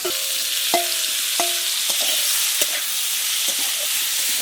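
Fried shrimp go into a sizzling bitter gourd and potato curry, a close, steady frying hiss punctuated by several sharp utensil clinks and scrapes against the pan, with no talking.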